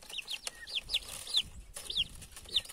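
Chicks peck at ground corn scattered on the ground, with repeated high, sharp peeping calls close by over soft scratching and tapping.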